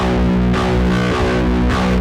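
Distorted metal guitar picked with the strings left ringing open rather than palm-muted, a dense sustained wash with a few faint pick accents, loud and close with nobody talking.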